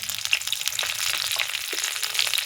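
Nigella seeds, bay leaf, two dried red chillies and a green chilli crackle and spit in hot oil, a dense close sizzle full of rapid tiny pops, steady throughout without voices.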